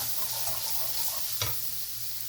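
Dry red chillies and spices fry in a pan, a steady soft sizzle with faint stirring scrapes and one brief louder spit, fairly quiet and without talk.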